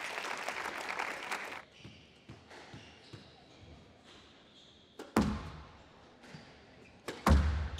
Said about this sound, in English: You can hear the crowd behind him.